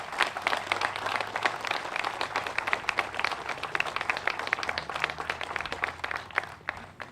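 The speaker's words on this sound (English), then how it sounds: "Please give a round of applause." A crowd at a September 11 memorial and groundbreaking ceremony at Newton City Hall applauds police and firefighters, with sharp, individually distinct claps in a lively, sustained ovation that tapers off at the end.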